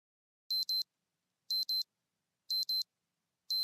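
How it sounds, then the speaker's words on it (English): An alarm clock goes off in the visual novel UsoNatsu, sounding repeated pairs of bright electronic beeps about once a second, crisp and isolated against silence. "I wake up to the sound of my alarm"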